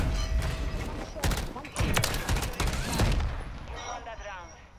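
Rapid gunfire from Call of Duty MW3 during a 2v2 match, dense bursts of shots and impacts crowding the clip, loud and close, with players talking over the action.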